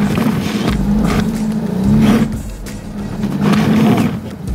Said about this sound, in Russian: Аж мотор тухнет.